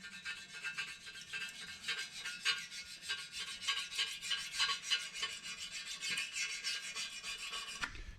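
A razor blade scrapes old gasket goo off a 2008 Dodge 2500 Cummins engine part in quick, repeated rasping strokes, close and steady with a sharp tap at the end, no talking.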